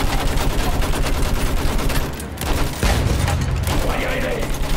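Dense, continuous gunfire from a World War I battle in the video game Battlefield 1, rapid machine-gun bursts and rifle shots rattling without pause, loud and close, with a heavy low rumble breaking in partway through.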